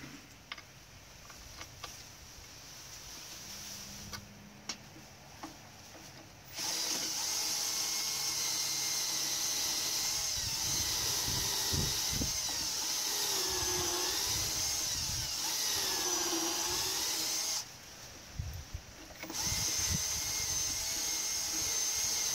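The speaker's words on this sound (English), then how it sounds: "I'm drilling through the wood" A power drill bores through wood while building a pivoting car dolly trailer, running as a steady, fairly close whine with two brief pauses where the motor stops and restarts.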